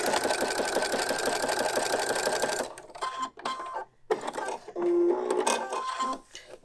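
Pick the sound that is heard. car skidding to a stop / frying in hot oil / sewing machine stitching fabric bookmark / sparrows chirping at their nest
sewing machine stitching fabric bookmark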